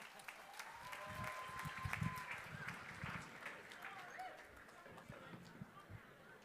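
Audience clapping at a political party convention general session, a steady wash of applause from a large crowd with a few louder claps and voices mixed in, gradually thinning toward the end.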